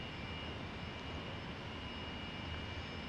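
An F-86 Sabre jet engine idling in a flight simulator, a steady, even roar with a faint high whine above it, continuous and unchanging, with no talk.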